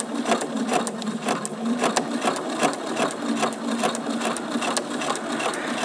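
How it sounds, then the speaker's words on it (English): A sewing machine runs steadily as it stitches fabric along a marked line, a continuous close mechanical whir with a quick, even needle rhythm and no voices. "I'm going to sew on this line between B1 and B2."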